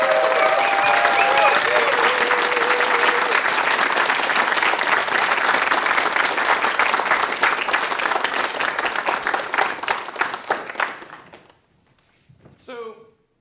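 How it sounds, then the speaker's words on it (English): An audience at a programming conference breaks into sustained loud applause and some cheering for a speaker, dense clapping that fades out near the end, followed by a brief voice. "Let's give the greatest round of applause for the outstanding Casey Muratori."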